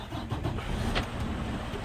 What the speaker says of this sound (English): crank the truck up